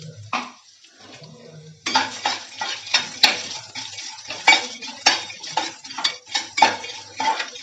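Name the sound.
roasted peanuts and cashews frying in oil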